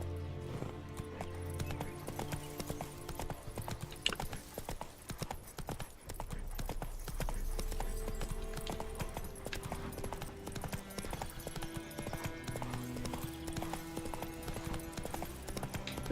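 The horse Roach gallops in The Witcher 3: Wild Hunt, a fast, steady clip-clop of hooves with an occasional whinny, set against quiet game music.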